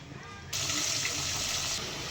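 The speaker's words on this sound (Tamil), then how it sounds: "அடுத்து குருமாவுக்கு தேவையான அளவு கொஞ்சமாக தண்ணி சேர்த்துக்குவோம்" Water is poured into a pan of kurma curry for puri, a sudden steady splashing pour that starts abruptly and runs for over a second before stopping.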